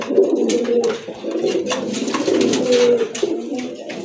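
A male pigeon coos repeatedly in a rolling, throaty rhythm, close and fairly loud, with other birds faintly calling in the background and no talk.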